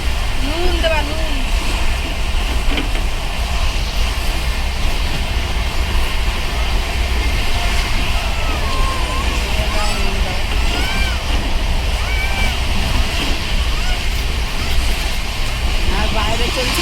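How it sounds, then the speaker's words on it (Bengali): The 12354 Lal Kuan–Howrah Superfast Express runs at speed, giving a continuous loud rumble and rattle from on board that holds steady throughout, with faint voices mixed in. "আর বাইরে চলছে এইরকম দুরন্ত গতিতে ট্রেন, সুপার ফাস্ট বলে কথা।"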